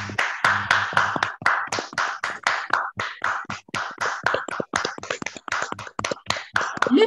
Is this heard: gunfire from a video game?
no